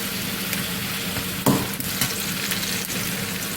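Ridge gourd and egg gravy sizzles steadily in a pan while a utensil stirs through it, with one sharp scrape of metal on the pan partway through, close and continuous.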